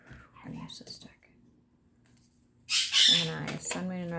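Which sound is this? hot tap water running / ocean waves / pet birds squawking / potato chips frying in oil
pet birds squawking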